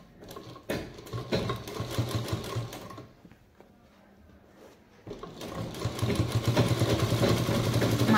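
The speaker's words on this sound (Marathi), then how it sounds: "दाब शिलाई द्यायची।" A sewing machine stitches a fabric purse, whirring loudly in two steady runs separated by a brief quiet pause near the middle.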